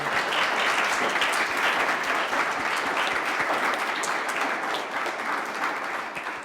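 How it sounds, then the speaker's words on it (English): Sustained applause from a live session audience, steady dense clapping throughout that tapers slightly at the end. "We get a round of applause"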